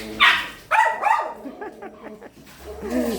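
Several dogs, among them one named Tagpi, bark and yip sharply as they squabble over bread, with whimpers mixed in and a person talking over the noise nearby.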